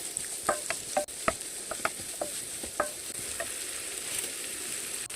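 Onions frying in oil in a pan, a soft steady sizzle punctuated by sharp scraping clicks as a spatula stirs them, close and fairly quiet.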